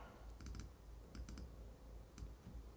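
Quick bursts of typing on a computer keyboard, a few clustered clicking keystrokes in short groups separated by pauses, quiet and close.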